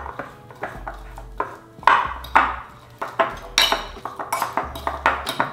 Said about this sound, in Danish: Så jeg moser bare bananen her med en gaffel.